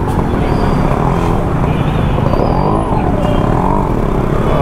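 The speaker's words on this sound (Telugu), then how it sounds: "full traffic jam guys bus వల్ల" Heavy traffic jam caused by a bus, a dense rumble of idling and creeping engines close by, steady and loud, with a few faint horn-like tones above it.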